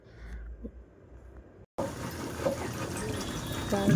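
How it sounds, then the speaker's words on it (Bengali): Water poured into a pabda fish curry cooked with mustard paste: after a quiet start and a brief cut, a close, steady rushing splash of liquid fills the pan and gradually grows louder. "এবার জল দিয়ে দিব যার যতটা ঝোল পছন্দ"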